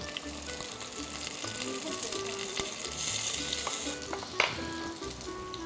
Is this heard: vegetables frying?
yes